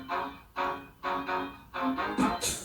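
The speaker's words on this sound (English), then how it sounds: "I pitched it down fully by an octave," A synth lead dropped a full octave plays about five sustained, buzzy notes in a steady half-second pulse, alone and fairly close, with the last note brighter and sharper.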